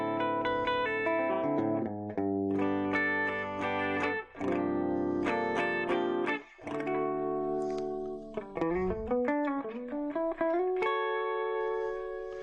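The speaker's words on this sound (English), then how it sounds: "It's got a real nice clean tone. It has a really smooth, creamy reverb." Clean electric guitar playing chords and melodic runs through a budget amplifier, bright and sustained with a smooth, creamy reverb tail, no voices.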